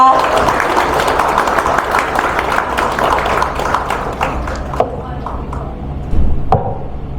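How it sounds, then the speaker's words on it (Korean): A crowd claps steadily in dense, enthusiastic applause welcoming a speaker at an inauguration ceremony, thinning out toward the end, with some voices mixed in. "차재영 교수님이 나오실 때 여러분의 힘찬 박수가 필요합니다."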